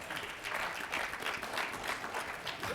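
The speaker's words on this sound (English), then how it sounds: "That deserves applause." Applause from the audience at a 2016 HOPE Global Forums session on athletes giving back. The clapping is faint and distant and sounds like a steady crackle with little else around it.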